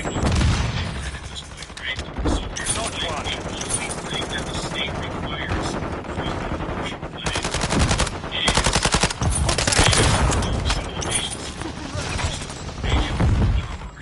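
Dense gunfire from the video game Modern Warfare 3: rapid automatic bursts, single shots and booms fill the whole stretch loudly, with in-game voices calling out over the shooting.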